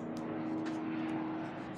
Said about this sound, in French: Désolée pour ce bruit d'hélicoptère.